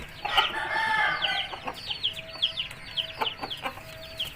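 A top-class Aseel game rooster crows and clucks close by, a long harmonic crow followed by a run of short, sharp clucks, with no talking.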